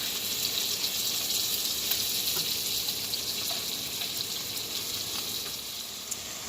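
Onion mixture cooking in a pot for spaghetti sauce gives a steady, even sizzle and hiss that holds without break at moderate loudness, with no voices.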